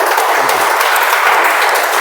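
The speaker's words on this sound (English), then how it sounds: "huge round of applause for everyone" Steady, dense applause from a meeting audience, loud and continuous for the whole stretch with no talk over it.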